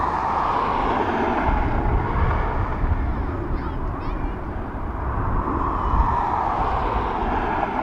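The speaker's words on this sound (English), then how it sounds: "So that's the Delta off to Minneapolis, 27-year-old aircraft from Delta." A 27-year-old Delta jet departing Dublin Airport for Minneapolis, a loud continuous engine roar and rumble that swells and holds steady throughout, heard from nearby.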